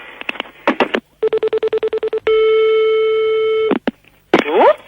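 A landline telephone call being placed: a rapid run of dialing beeps, then a steady series of pulsed tones and a long sustained line tone, ending in clicks and a brief voice.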